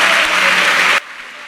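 Audience applause at a church testimony gathering in Côte d'Ivoire, a dense burst of clapping close by that cuts off sharply after about a second, leaving quiet room tone.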